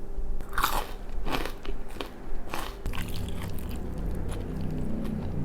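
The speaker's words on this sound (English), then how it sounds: "Curly fries." Crunchy curly fries from Jack in the Box bitten and chewed close to the mic, with several sharp crunches in the first few seconds giving way to softer, steady chewing.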